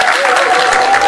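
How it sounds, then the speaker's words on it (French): Audience applause at a festive gathering of a women's political union in Paris, a dense, loud wash of clapping from a crowd, with a sustained tone and a bit of voice underneath. "je vous demande d'applaudir bien fort"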